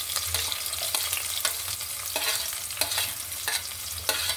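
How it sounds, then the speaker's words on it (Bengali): Chopped onions, green chillies and garlic fry in a pan with a loud, close, continuous sizzle. Rhythmic stirring strokes sweep through it at regular intervals, and no one speaks. "দিয়ে দিব 2টো কাঁচামরিচ ফ্লেভারের জন্য, দিয়ে দিচ্ছি বেশ কিছু পেঁয়াজ কুচি"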